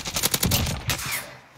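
A rapid burst of automatic gunfire in the video game Warzone, several quick loud shots followed by a fading tail, with no voice over it.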